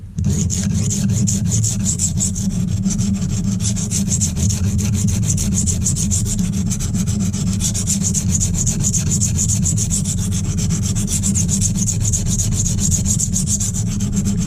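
A knife is stroked back and forth across a silicon carbide sharpening stone up close, giving a continuous gritty rasping scrape with a rapid regular texture, loud and steady, with no talk.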